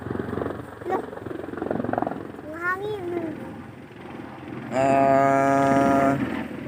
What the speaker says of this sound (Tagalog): Padaanin muna natin yung helicopter.